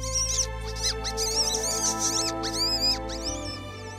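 A fox-hunting predator call imitates the squeal of a wounded rabbit: high, thin, wavering squeaks repeat in quick bursts over a steady low hum, close to the ear and continuous, with no voices.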